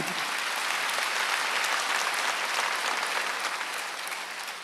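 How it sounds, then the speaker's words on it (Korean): A church congregation bursts into sustained applause during a Wednesday worship service, a thick, even wash of many hands clapping that holds steady and eases slightly toward the end. "박수."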